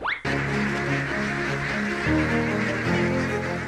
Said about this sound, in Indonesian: Salah satunya dengan mengangon bebek atau unggas-unggas ternak di sawah.